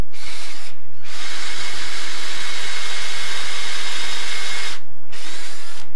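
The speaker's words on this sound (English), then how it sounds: "as you can see, doesn't drill all that quickly" A loud power drill whines steadily while slowly boring into very hard oak for a bowl, pausing briefly near the start and again near the end, very close.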